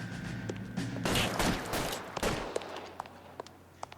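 Gunshots in the video game LA Noire, a few sharp cracks clustered together around the middle with scattered lighter impacts after, moderately loud over a quiet background hum.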